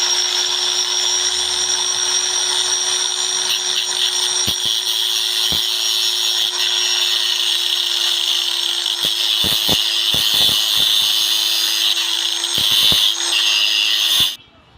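An angle grinder grinding off an old rivet on a marble cutter's base plate, a loud steady high whine with a constant hum, brief scraping bursts, running about fourteen seconds before stopping abruptly.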